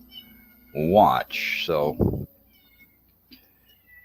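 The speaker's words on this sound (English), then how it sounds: "if you guys hear a cat meowing," A hungry kitten in a house gives a short, high meow, close and clear, alongside someone talking casually.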